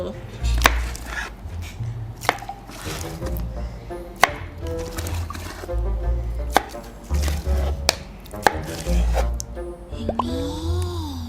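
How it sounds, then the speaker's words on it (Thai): A knife cuts through a giant jelly shaped like a watermelon, giving about a dozen wet chopping thuds and soft plops at an uneven pace against the board, with a faint sliding squish near the end. "มาลองหั่นแตงโมเล่นดีกว่าค่ะ"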